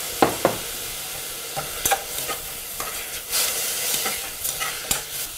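Carrots seasoned with salt stir-fried in a hot pan, a loud steady sizzle broken by sharp repeated clacks and scrapes of a utensil against the pan, close up with no talk.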